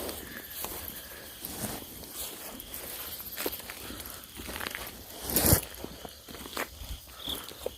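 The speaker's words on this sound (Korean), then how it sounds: "아이씨 발소리 존나 크게 나는데" Footsteps crunch on rough ground near an abandoned house at night, an irregular run of close scuffs and steps over a constant chirp of crickets, with one sharper thud midway.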